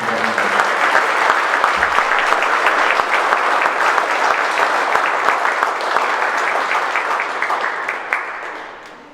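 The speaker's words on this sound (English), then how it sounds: "Let's give these leaders a round of applause." A crowd at a scout recognition event applauds its leaders with sustained, dense clapping, a few individual claps standing out, gradually fading toward the end.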